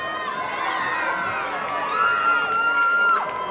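A large hometown crowd at a women's boxing fight roars and shrieks in sustained cheering, with high screams and whoops rising over the din, loud and continuous throughout.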